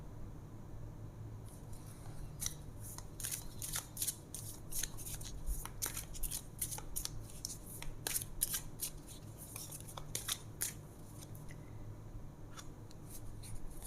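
Tarot cards are shuffled by hand in quick, crisp riffles and taps that repeat irregularly across the stretch. The sound is close but fairly quiet, with no talking.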